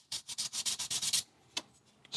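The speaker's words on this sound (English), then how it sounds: "I think I'm going to spend a minute and do a little bit of sanding to try and get it a little bit more even" Fine sandpaper rubs over an unfired clay bisque piece in quick, even strokes, about ten soft scratchy passes close by, then a pause and a couple of isolated scrapes.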